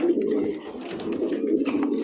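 Pair of fancy pigeons, a male and a female, cooing close by in soft, low repeated coos with no talking over them.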